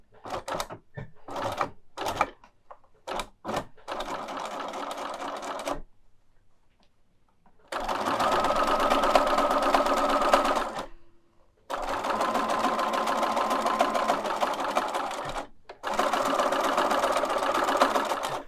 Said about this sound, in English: I've changed the color thread on my sewing machine so that it matches the color of the banner